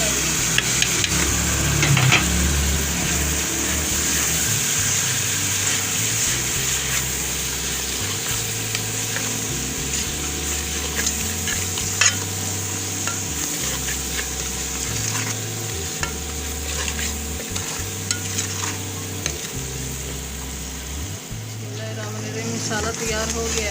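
Spices for bhindi gosht, a ladyfinger and chicken dish, fry in a pan with a continuous close sizzle, while repeated stirring scrapes and low bumps sound at a steady pace, with someone talking over it at times.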